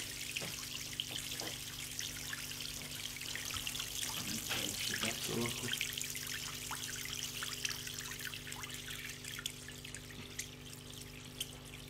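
Steady running water churns and trickles continuously in an 80-litre aquarium as the pump circulates it, with brief splashy bursts midway; a low hum sits underneath throughout.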